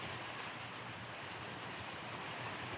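Heavy rain and wind roar around a hut in a storm, a dense, loud, unbroken wash of noise with no voices.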